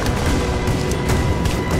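Sustained, dense gunfire in the Rise of the Tomb Raider video game, set in an abandoned mine: a loud, continuous roar of overlapping shots and blasts with sharp bursts cutting through, and no clear talk.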